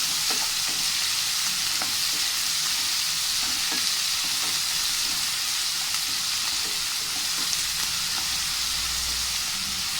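Tomatoes and onions sauté in a pan for tomato chutney, a steady close sizzle with occasional stirring scrapes throughout.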